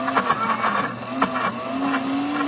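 A blender grinds peanuts into peanut butter with a steady, close motor whine whose pitch climbs slightly as it runs, and the thick paste churns and knocks against the jar.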